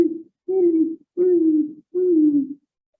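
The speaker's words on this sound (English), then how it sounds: "you could hear a mewing sound" Beavers mewing inside a bank lodge along the San Pedro River, three drawn-out, soft, low whining calls in steady succession with short gaps, muffled and close, no talk.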